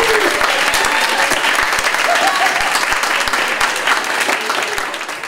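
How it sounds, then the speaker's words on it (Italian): Dense audience applause from a blood donation association meeting with eighteen-year-olds, steady and loud, fading slightly at the end. "Applausi."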